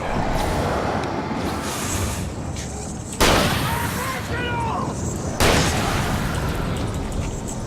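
Two revolver gunshots in the video game Alan Wake, sharp booms spaced a couple of seconds apart over a steady dense game soundscape, with a voice talking throughout.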